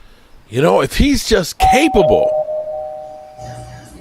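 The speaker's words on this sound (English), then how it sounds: "that was my doorbell" A home doorbell chimes once with a sustained ringing tone that fades slowly, heard right after someone talks over it.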